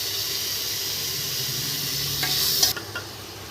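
Tomatoes added to a frying chicken kulambu masala with ginger-garlic paste, giving a continuous sizzle and hiss with a few soft stirring clatters toward the end.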